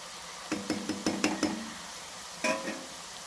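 Cabbage pakoda pieces handled in a pan of hot frying oil, heard as a series of light scraping clinks and taps over a quiet sizzle, with a few sharper spoon knocks near the end.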